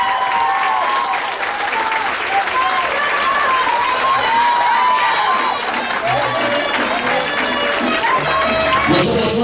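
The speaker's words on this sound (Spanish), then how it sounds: "vamos a darle ese fuerte aplauso" At a quinceañera party in West Palm Beach, Florida, a large crowd gives loud, sustained applause, with steady clapping throughout and some cheering mixed in.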